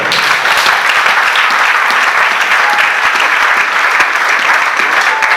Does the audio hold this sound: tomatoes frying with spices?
no